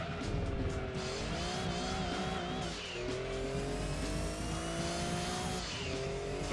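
A Mazda RX-7 drifting in Gran Turismo 2, its engine droning steadily while tires squeal continuously through the slide, pitch rising and dipping as the car shifts its angle.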